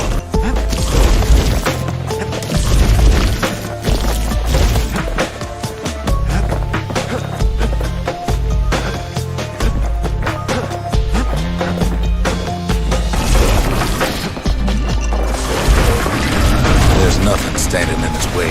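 Big guns firing in the video game Bastion, a dense barrage of booming blasts and clanking impacts layered over loud game music, with a narrator's voice speaking throughout.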